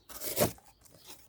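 A serrated Microtech Amphibian knife slices through cardboard in one short crunching, tearing stroke, close and fairly quiet, followed by a faint scrape.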